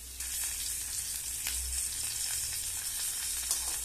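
Potatoes fry in a hot pan with beans and radish, a dense, steady sizzle and crackle that holds close and loud throughout with no voices.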